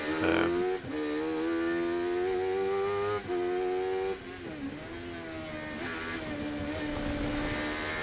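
Single-seater race car engine from a 750MC Sports 1000 race at Anglesey, loud and close with a rising whine, a brief drop near one second and a clumsy gap at a shift from second to third gear.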